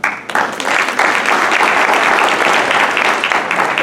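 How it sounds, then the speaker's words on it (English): Audience applause at a county overdose and drug awareness symposium, dense sustained clapping from a large crowd, loud and steady after a brief lead-in. "So a round of applause for that."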